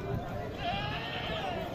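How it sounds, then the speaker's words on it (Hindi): Goats bleat at a crowded livestock market ahead of Eid, their calls mixed into a loud, busy background while someone talks over them. "ये बकरे चेक करें, ये भी ईद उल अज़हा के लिए बकरे हैं"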